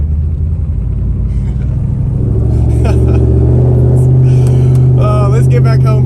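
A 2002 Pontiac Trans Am WS6 with an engine fault drives along, its loud, deep V8 rumble droning steadily throughout, with someone talking over it inside the car.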